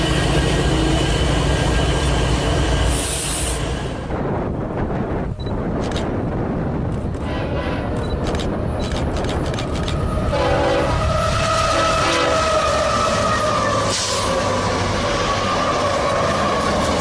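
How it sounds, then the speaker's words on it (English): A CN freight train led by an SD75I locomotive rolls past close by, loud and sustained, with blasts of the horn, rumbling wheels, clickety-clack over rail joints and some squealing. "And here goes a CN-9 leading an Avanoff with an SD75i."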